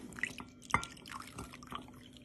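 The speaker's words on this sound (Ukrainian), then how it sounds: "і залім стаканом холодної води" Cold water poured from a glass into a plate holding a 25 g packet of gelatin, heard as a few soft splashing drips and trickles, close up and fairly quiet with no voices.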